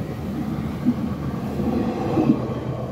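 Train rolling past outdoors: a steady low rumble and rushing hiss with faint wheel clunks, moderately loud and continuous, with no voices.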